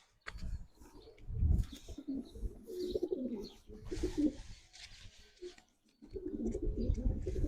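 Pigeons cooing in low, throaty, repeated calls, close by, with short pauses between bursts and a little rustling.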